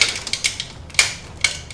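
Ratchet with a shallow 10mm socket working EGR bolts on a Mazda Miata during a turbo install, a close series of sharp clicking pawl ticks in short irregular bursts.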